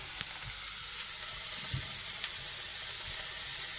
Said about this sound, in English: Now I'm just going to add the beef in and just crumble it inside.